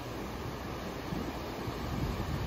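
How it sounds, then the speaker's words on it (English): Ocean surf forms a steady, even wash of broad noise, a continuous rolling hiss of waves with no breaks and no voices. "Notice how the waves go in and out."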